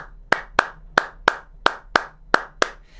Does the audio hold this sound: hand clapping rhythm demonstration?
yes